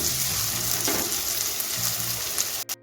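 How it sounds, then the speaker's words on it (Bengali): Crushed ginger fries with onion and green chilli, giving a steady, dense sizzle close by that runs almost the whole time and cuts off briefly near the end, with no speech. "তিরিশ সেকেন্ডের মতো আদাটাকে একটু ভেজে নিচ্ছি পেঁয়াজের সঙ্গে"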